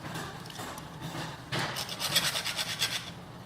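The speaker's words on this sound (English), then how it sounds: "When I file the handle is silver." Hand file rasping across a metal door handle, with quiet scattered strokes at first, then a louder run of steady rhythmic rasping strokes, close and alone with no talk.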